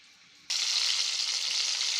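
Chicken shashlik fries in a pan, a sudden loud, steady hiss bursting in after a quiet half second and holding bright and even to the end, close up with no talking.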